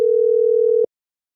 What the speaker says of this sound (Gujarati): રિંગ વાગી